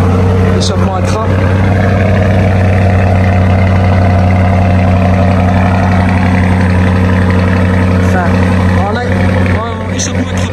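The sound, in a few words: car engine with Akrapovic exhaust revving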